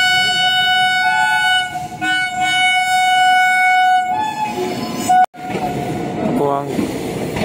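Train approaching a crowded crossing, loud rumbling of rail cars with a sustained, multi-tone horn blaring near and close, cut off by a sharp break, then rumble and voices continuing.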